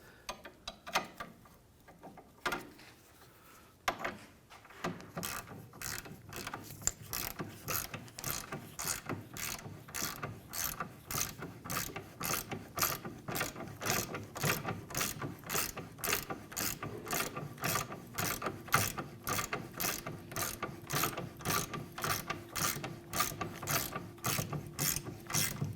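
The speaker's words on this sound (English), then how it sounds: "we're going to torque down our lower bolt here" Rapid steady clicking of a ratchet wrench torquing the lower rear shock absorber bolt on a 2015-2019 Hyundai Sonata to 110 foot-pounds, a long close run of evenly paced clicks after a few brief handling noises.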